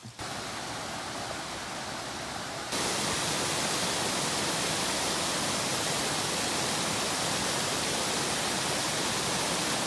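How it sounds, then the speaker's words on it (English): A loud, steady roar of a waterfall inside a cave fills the whole clip, growing denser and louder after the first few seconds and continuing without a break. "On the other side of this rock wall is a pretty amazing waterfall."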